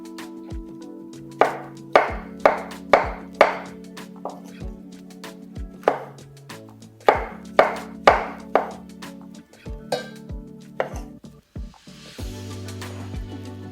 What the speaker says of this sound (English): Maybe chop them in half and then slice them.